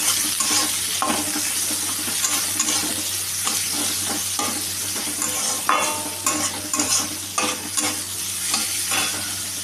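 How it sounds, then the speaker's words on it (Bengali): Chopped onion, chilli and garlic fry loudly in a hot pan for egg chow mein, a dense close sizzle broken by brisk spatula stirs and clanks against the metal, with a low steady hum underneath. "ভালো করে ভেজে নিচ্ছি এগুলোকে। লাল লাল হওয়া পর্যন্ত আমি এটাকে ভাজব।"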